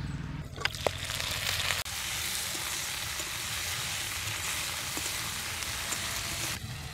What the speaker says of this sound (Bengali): পেঁয়াজ, মটরশুঁটি সবগুলো একটু ভাজা হয়ে গেছে, এবার এখন দেবো টমেটো কুচি।